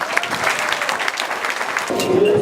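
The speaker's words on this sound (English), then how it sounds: "Give them a round of applause for bringing us together." Wedding guests applauding the couple, a steady patter of many hands clapping at close range for a couple of seconds, with a faint tone and murmur creeping in near the end.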